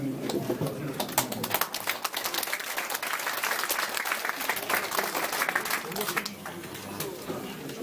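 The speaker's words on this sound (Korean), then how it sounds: "다시 한번 이충근 박사님께 박수를 드립니다" An audience claps at the close of a forum lecture on Trump's Korean Peninsula strategy. The applause is steady and dense for about six seconds, then thins out.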